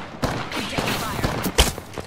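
Rapid bursts of gunfire in the video game Apex Legends, a quick series of sharp shots close together over a couple of seconds amid game action.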